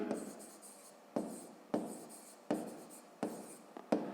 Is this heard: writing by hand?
yes